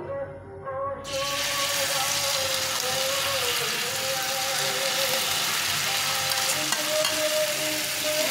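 Marinated carrot, beet, capsicum, cabbage and coriander frying in a pan, a loud, steady sizzle that bursts in after a quieter second and holds evenly throughout, with faint tonal whine underneath.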